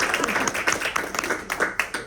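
An audience clapping at a school board meeting, a short burst of steady close applause from a handful of people, loud and continuous, with no talking.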